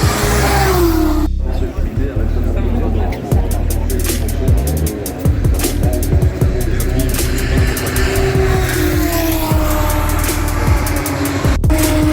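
Formula 2 race cars at the Spa-Francorchamps circuit in the Belgian Ardennes, their engines producing loud, continuous whining tones with rising and falling pitch as cars pass, and voices nearby.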